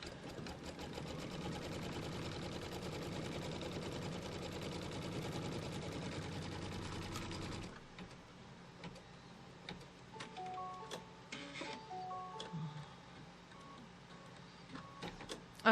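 An embroidery sewing machine tacking down a quilt strip, a rapid, even mechanical stitching drone for several seconds that then stops, leaving quieter ticks and small clicks of the machine and hoop.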